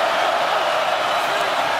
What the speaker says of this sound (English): Crowd trying to make it tough on Armstrong.